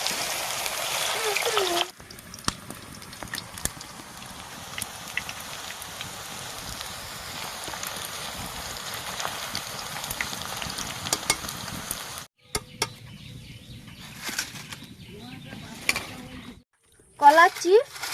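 Slices of raw green banana fry in hot oil as chips, giving a steady, loud bubbling sizzle that runs for several seconds, then breaks off with short pauses and a few clattering handling noises.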